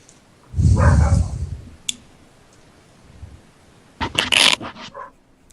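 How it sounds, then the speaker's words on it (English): A pet dog makes a burst of loud close vocal noise at home, then falls quiet before a second cluster of sharp whimpering yelps and clicks. "I don't know what my dog's doing"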